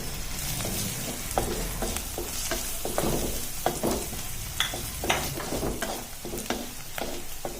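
Ginger-garlic and green chilli paste frying with turmeric for a chicken curry, a close, steady sizzle with intermittent spoon scrapes and stirring knocks.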